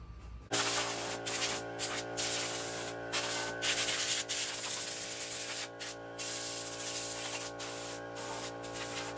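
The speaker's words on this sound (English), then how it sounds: "I'm gonna get my air hose and I'm gonna blow the top of the motor off." An air hose blasts leaves, mud and debris off the top of an LS engine, a steady loud hissing rush with brief pulses and gaps, close to the source and with no talk.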